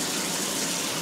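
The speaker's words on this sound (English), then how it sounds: "turn on some cold water and then dump out the hot water" Hot water from a pot of cooked asparagus gushes out into a sink under a running cold-water tap, a dense, steady splashing rush, close and continuous.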